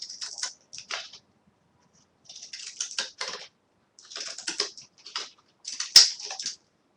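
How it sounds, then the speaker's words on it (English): Zigzag scissors snipping a paper strip, a series of crisp, close clicking cuts in short bursts separated by brief pauses, with no talking. "I took what is this, a zigzag scissor, and I'm just gonna cut a zigzag on here"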